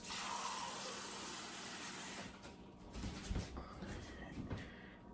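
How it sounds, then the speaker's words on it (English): A cup fills with water from a kitchen tap, a steady close rush that gives way to irregular splashing and clunks as the flow stops. "So I'm gonna get one more cup of water"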